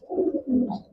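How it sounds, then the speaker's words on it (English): Racing pigeons, yellow-ring Van Engela hens, cooing in a loft: two soft, close, throaty coos in quick succession. "Got very high hopes for these yellow ring hens."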